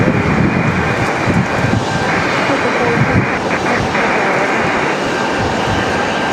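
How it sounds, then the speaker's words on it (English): Airliner touching down in strong wind at Raleigh-Durham airport: loud, continuous jet engine roar with wind buffeting the microphone, steady throughout. "So the Los Angeles flight coasting on in here, touching down safely"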